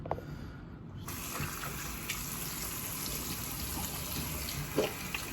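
Tap water gushes steadily into a sink as cupped hands bring it up and splash it onto the face during face washing. The flow starts abruptly after a quiet second and stays close, with a few small splashes and no talk.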